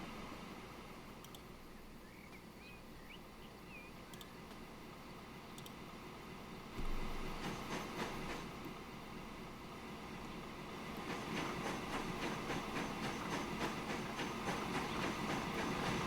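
A train pulls into a depot in the simulation game Transport Fever, rolling along with a soft rail rumble and faint clicks, then growing louder and denser partway through, with no talk.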